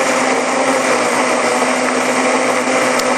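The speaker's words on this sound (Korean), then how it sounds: "잘 섞일 수 있게 믹서기로 섞어주시고 파인애플 과육이 남지 않도록" A blender runs continuously at high speed, whirring loud and close as it purées pineapple into a piña colada.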